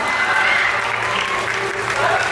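Steady audience applause at a beauty pageant crowning, a dense continuous wash of clapping from a crowd that holds at even loudness throughout.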